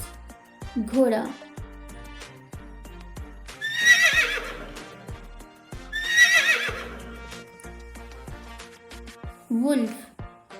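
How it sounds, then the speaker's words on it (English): A horse neighs twice in loud, shaky whinnies, with brief spoken words at the start and end over soft background music. "Horse, Ghoda"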